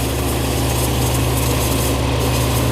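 A Yanmar CA155 combine harvester's three-cylinder diesel engine runs with a loud, steady, close drone and a dense mechanical rattle, with no talk.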